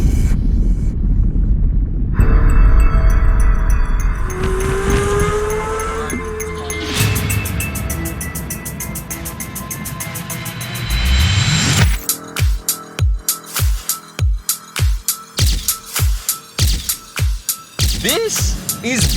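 A V12 sports car producing 668 brake horsepower with a six-speed automatic sequential gearbox rumbles and revs while driving, rising in pitch before shifting into a rapid, loud pulsing throb near the end.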